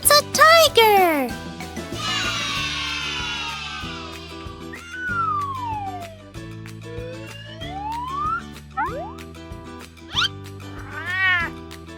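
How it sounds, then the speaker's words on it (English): A domestic cat meows in a couple of short, rising-and-falling calls, set against upbeat children's background music with playful sliding sound effects between them. "It's a cat!"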